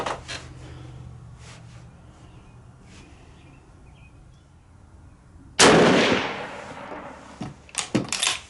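A Lee-Enfield No4 Mk II rifle is fired at a 100-yard range: one loud, sharp report with a long rolling echo, followed by a few smaller clattering knocks as the rifle is handled.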